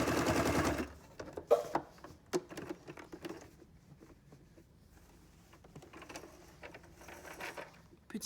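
A sewing machine stitches down the middle of a needle case in a brief opening burst, followed by faint handling clicks and taps as someone speaks softly.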